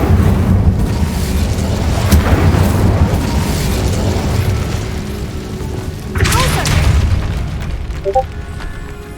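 A fiery Incendio spell bursts in Hogwarts Legacy, a loud booming blast with rumbling low end, followed by a second eruption a few seconds later amid dense in-game ambience.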